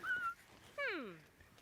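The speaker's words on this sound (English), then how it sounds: "And your mangy little dog, too." A small dog whimpers, a short high whine followed by a longer falling whimper, fairly close in a quiet setting.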